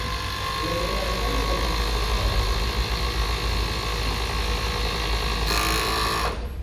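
A Jack E4 overlocker sewing machine joins fabric, its motor in the head running with a steady fast mechanical hum and rattle for about six seconds before stopping, close and alone without speech.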